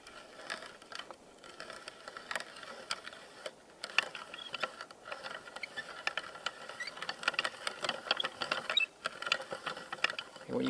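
A bench-mounted hand-crank grinder grinds acorns into fine pieces, giving a steady rapid ratcheting, clattering crunch at moderate, fairly faint level with no voices.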